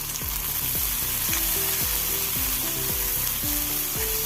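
Chopped tomatoes frying and being stirred in a pan for a jackfruit seed curry, a steady loud sizzle with repeated clanks and scrapes of a utensil against the pan throughout.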